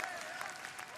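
Audience applause at a figure skating team competition in Tokyo, a steady roar of clapping filling the arena, loud and continuous throughout.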